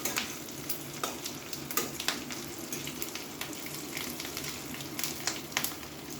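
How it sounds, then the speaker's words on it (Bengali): Potatoes and pointed gourd with fish roe fry in a pan, a continuous soft sizzle broken by irregular sharp crackles and spatters, close and steady with no talking. "ওই জন্য এখনও ধরে ভাজতে হবে।"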